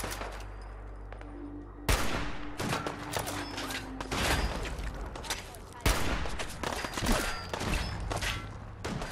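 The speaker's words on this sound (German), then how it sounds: "Wo die überall schießen" Fallout 4 gunfire rattles in bursts of volleys and single shots over a rumbling battle backdrop, with some voices in the mix.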